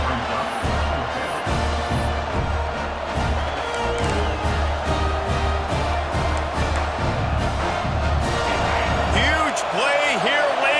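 Stadium crowd roaring in the EA Sports College Football 26 video game, a dense, loud, continuous wall of cheering and noise during a late-game fourth-down defensive stand, with a commentator talking over it.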